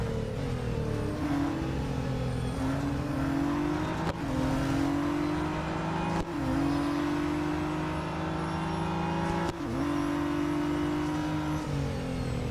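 A Radical RXC race car's engine in the Real Racing 3 game screams through repeated gear changes, the pitch climbing and then dropping sharply at each shift, loud and continuous with no talking.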